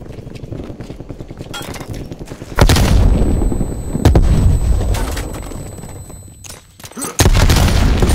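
Grenade blasts and gunfire in the shooter Call of Duty Black Ops Cold War, with rapid shots giving way to loud sudden explosions around the middle and end, each followed by a rumbling decay.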